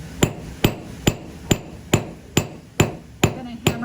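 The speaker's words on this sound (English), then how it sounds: "I'm going to hammer between those marks." A hammer strikes metal on an anvil during forging, about nine sharp ringing blows at a steady, unhurried pace, close and loud with brief decay between hits.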